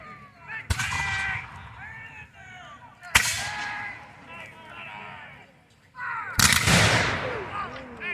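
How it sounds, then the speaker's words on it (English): Reenactors at an 1812 battle reenactment fire three sharp musket volleys spaced a few seconds apart, each a loud crack with a rolling echo, while people talk in the background between shots. "So they're firing volleys."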